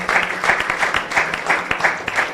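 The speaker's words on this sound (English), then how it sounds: "Please clap for them." An audience at a climate change prize competition applauds the judging panel, a short burst of lively, rhythmic clapping from a sizeable crowd, loud and close with individual claps standing out.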